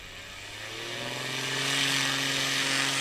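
A STOL light aircraft takes off at Patriot Airpark, its propeller engine droning with rising pitch and volume over a few seconds, moderately distant.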